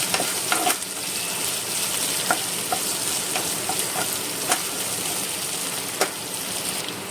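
Capsicum frying in a pan sizzles loudly and continuously, close by, with occasional clicks and scrapes of a stirring spoon throughout.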